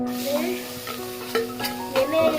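Chopped onion fries in hot oil in a pan, a close, steady sizzle with occasional stirring scrapes.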